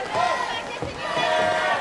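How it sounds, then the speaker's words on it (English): A French crowd at a 2024 ICF Canoe-Kayak Polo World Championships women's match against Iran roars and cheers after a goal, a loud, sustained swell of voices filling the arena. "Oh, that's woken the French crowd up now."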